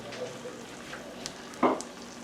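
Peppers and onions stirred into chicken broth for arroz con pollo, a quiet simmering sizzle with a soft stir and one brief louder scrape near the end.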